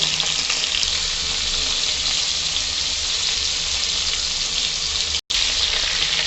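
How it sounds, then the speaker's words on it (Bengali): Potatoes and cauliflower sizzle steadily in fish oil with turmeric and salt, a dense continuous frying hiss close by, with no talk and only a brief dropout near the end. "ওই মাছের তেলেতেই আলু আর ফুলকপিটা নেড়ে দেবো। ভালো করে নেড়ে দেবো, একটু হলুদ একটু নুন দিয়ে দেবো এতে।"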